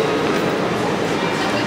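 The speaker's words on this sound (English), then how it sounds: "Nothing like an air-conditioned monorail." Interior of a moving air-conditioned Walt Disney World monorail, a steady loud rumbling roar with faint voices under it.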